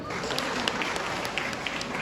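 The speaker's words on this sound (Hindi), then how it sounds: "क्या बात है, जोरदार ताली" A gathering at a strike rally claps together in a thick, continuous spatter of many hands, fairly loud and steady, with some voices mixed in.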